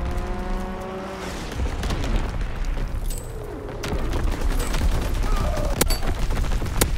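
Gunfire and explosions from the game Call of Duty WWII rattle in dense bursts and booms over a rumbling battlefield backdrop, with a few sharp isolated shots near the end.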